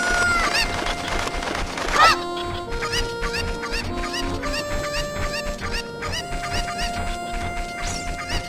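Chickens clucking and crowing in The Legend of Zelda: Ocarina of Time, a steady run of short fowl calls over game music that continues throughout.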